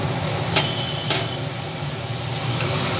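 Masala bread with chili sauce and turmeric being stirred in a hot pan: a continuous close sizzle with two brief scraping clatters from the spatula, no voices.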